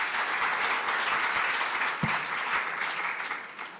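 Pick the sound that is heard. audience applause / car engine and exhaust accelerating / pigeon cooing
audience applause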